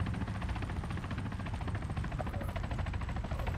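A helicopter in the military shooter Arma 3 holds a steady, loud rotor drone with a dense buzzing texture throughout, without voices.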